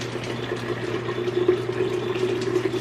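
Juice poured from a container through a couple of strainers into a pitcher, giving a steady, close trickling and splashing of liquid that runs continuously for a few seconds with no talking.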